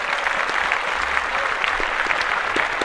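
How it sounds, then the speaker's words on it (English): A small group claps steadily on a sports and music podcast, a brief even patter of hand claps heard fairly close with no talking over it. "Yeah, clap that up."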